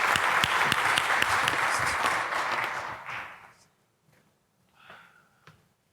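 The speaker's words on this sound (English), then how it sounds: "please give him a warm round of applause." Loud, dense applause from a conference audience at a manufacturing launch event, steady for about three seconds before fading out, followed by a few faint isolated sounds.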